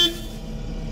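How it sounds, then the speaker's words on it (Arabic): Horn of an 8-tonne forklift, a short honk at the very start with a steady engine rumble continuing underneath for the rest of the second. "شفتوا الزمور هون تبعها."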